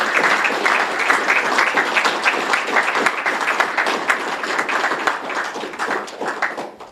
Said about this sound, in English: Let's give a round of applause for Jim.